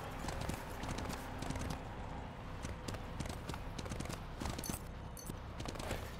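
A horse's hooves clip-clop steadily as a character rides in the video game SMITE, with the galloping rhythm sitting amid busy game sound effects and background noise.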